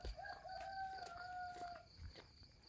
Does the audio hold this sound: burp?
no